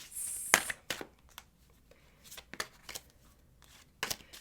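A deck of tarot cards being shuffled by hand, with sharp papery riffles and slaps in irregular bursts, the loudest near the start and end, close up with no talk.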